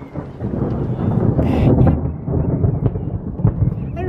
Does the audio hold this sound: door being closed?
no